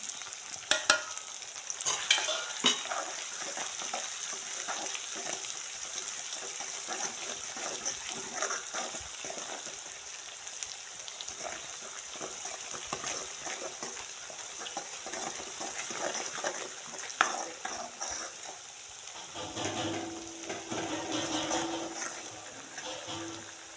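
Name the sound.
frying pithla while stirring in salt, onion, garlic and spices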